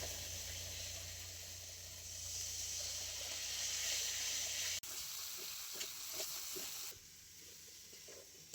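Ground spice paste of dried red chilli, whole cumin and coriander with a little water added to a hot pan, a soft steady sizzle and hiss that drops off partway, fairly faint with no talk.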